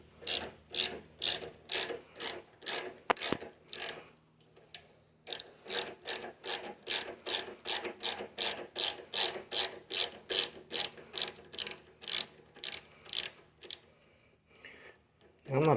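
Ratchet wrench with a 6mm Allen bit loosening the fuel tank bolts on a 2023 Indian Challenger motorcycle, producing rapid repeated clicking strokes in bursts with a short pause, close and crisp.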